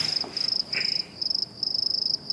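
Crickets chirp as an added effect in rapid pulsed trills, bursts broken by short pauses, clear and fairly close with no speech over them.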